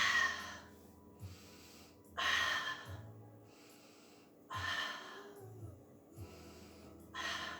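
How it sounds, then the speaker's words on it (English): Deep breaths in and out during a Pilates class: a few slow, airy inhales and exhales, each several seconds long, close and fairly soft, with quiet pauses between them. "Big breath, exhale."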